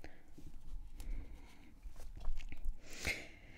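A horse in the online riding game Star Stable Online moves with soft clip-clopping hoof steps and crunchy chewing noises close by, ending in a brighter burst, while a player talks briefly over it.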